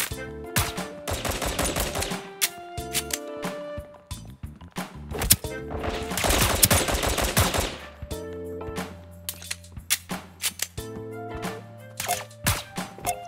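Rapid automatic gunfire bursts from the multiplayer spy shooter Deceive Inc, loud and dense, with short pauses between volleys and single sharp shots trailing off toward the end.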